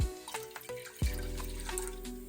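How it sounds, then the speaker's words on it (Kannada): Water pours steadily from a glass into a pot, starting with a splash after a few faint drips and continuing as a close, running gush. "2 ಗ್ಲಾಸ್ ನೀರು ಹಾಕೋತೀನಿ"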